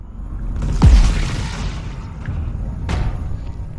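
A single heavy explosion booms out in the video game Crackdown 3, followed by a rolling rumble and a smaller sharp crack a couple of seconds later.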